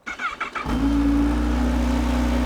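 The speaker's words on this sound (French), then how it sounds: "Nous allons démarrer le moteur pour voir un petit peu comment ça sonne cet engin." A Kawasaki ZH2 SE motorcycle's inline-four engine cranks over and catches, settling straight into a loud, steady idle heard up close with nothing else over it.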